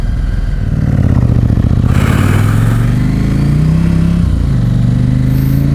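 A KTM 790 Adventure R motorcycle engine on throttle, loud and close, a throbbing mid-range growl rising and falling as the revs climb and ease off, with no talk.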